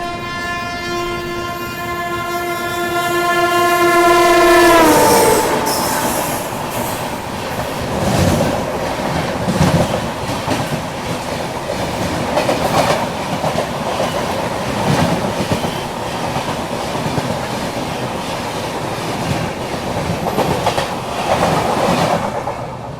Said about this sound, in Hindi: देख रहे हो ना आप लोग प्रायोरिटी नॉर्थ ईस्ट एक्सप्रेस की